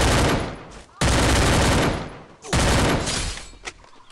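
Gunfire from the mobile battle royale game Free Fire: three loud, dense bursts of rapid shots, each lasting around a second, separated by brief pauses.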